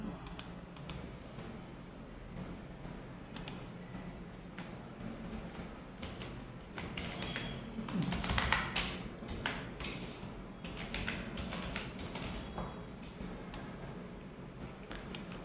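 Typing on a computer keyboard while writing text for a trailer: quick, irregular bursts of light key clicks and taps, close and fairly quiet, with no talking.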